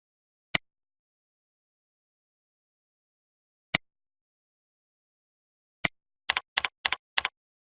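A handful of computer keyboard keystrokes entering membership details: three isolated, widely spaced clicks, then a quick burst of several close taps, crisp and near in an otherwise silent room.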